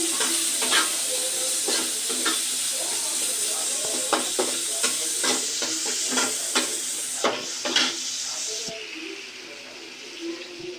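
Onions and green chillies fry in a pot, a steady crackling sizzle broken by repeated sharp scrapes and clacks of a stirring spoon, heard close and alone.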